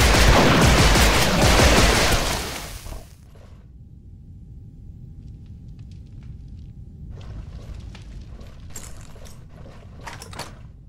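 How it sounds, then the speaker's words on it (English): Heavy gunfire bursts loud and dense in the lobby of the Duke Nukem Forever game for about three seconds, then cut off, leaving quieter mechanical clicks and scattered sharp metallic ticks and pops through the rest. "shooting in the lobby"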